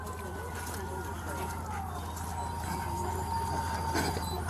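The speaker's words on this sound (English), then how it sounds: "Guys, get this fire engine down over here right now." A fire engine siren wails at a distance, faint and drawn out beneath a steady low engine-like hum, with scattered voices and crowd noise around it.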